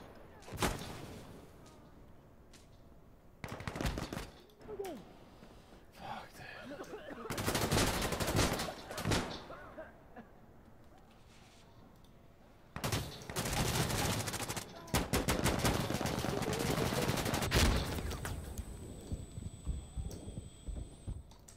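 Bursts of automatic gunfire crack out in a shooting video game about a Cuban insurgency, several loud clustered volleys separated by quieter gaps, with players shouting at times between them.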